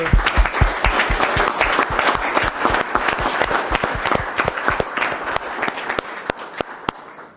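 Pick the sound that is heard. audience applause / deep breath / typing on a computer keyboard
audience applause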